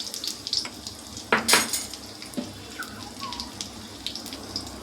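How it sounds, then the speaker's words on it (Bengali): Dried red chillies and a five-spice tempering are stirred in a pan while cooking leafy greens, with metallic clanks and scrapes over a faint, light sizzle. "দিয়ে দেবো দুটো শুকনো লঙ্কা, আর ফোড়ন দেব 5 ফোড়ন। একটু নাড়াচাড়া করে নেব।"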